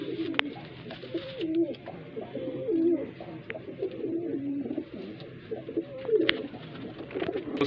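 Repeated soft, throaty pigeon coos roll out one after another, close by, with faint background noise between the calls.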